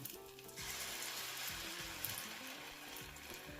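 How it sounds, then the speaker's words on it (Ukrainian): Spoonfuls of pumpkin vegetable cutlet batter hit hot oil in a frying pan, setting off a soft, continuous sizzle that starts just after the first half-second, with faint tonal background sound underneath. "Викладаємо тісто на розігріту олію."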